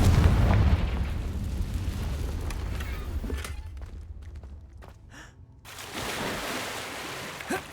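Confringo blasting spell in the Hogwarts Legacy video game: a heavy rumbling boom that rolls away into quieter debris and swishes, followed by a second softer burst.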